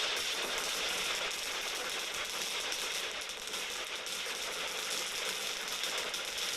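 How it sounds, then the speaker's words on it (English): Dense, rapid crackling bursts of firecrackers go off beneath a dragon dance in the street at a Taiwanese festival, a loud continuous rattling barrage with no pauses and a hiss underneath. "firecrackers explode beneath its feet"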